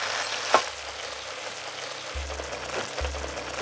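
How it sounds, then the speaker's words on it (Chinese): Water is poured into a hot wok over fried fish resting on aromatics, setting off a steady, close crackling sizzle with a brief splashy burst near the start and low rumbles as the liquid heats, no voices. "接下来呢，我们淋水"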